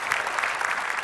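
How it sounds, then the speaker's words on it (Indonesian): Brief, fairly soft clapping from a studio audience welcoming guests from a Zumba community on an Indonesian talk show, an even wash of applause with no voices over it. "Tepuk tangan untuk kakak Olivia, kakak Ipung, dan kakak Eva"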